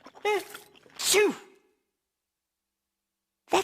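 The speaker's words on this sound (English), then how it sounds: "That sounds like Henry sneezing." A cartoon dog gives a big, exaggerated sneeze, a breathy wind-up followed by a sharp burst, then silence before another voiced sound begins.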